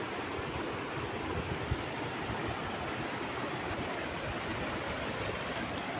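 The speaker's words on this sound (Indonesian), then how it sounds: "Ini jam 1 anginnya kenceng banget" Strong night wind sweeping over a rocky river deep in a forest, a dense, unbroken rushing roar that stays loud and even throughout, with no voices.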